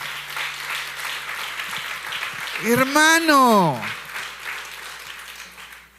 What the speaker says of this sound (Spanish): Aplauda bien